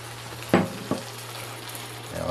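Ground meat sizzles softly in a pan as tomato sauce is stirred in, with two quick scrapes of a utensil against the pan over a low, steady fry.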